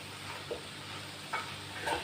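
Cabbage fry with grated coconut gets stirred in a pan over a faint, low sizzle, with three soft scraping touches of a spoon against the pan, quiet and close.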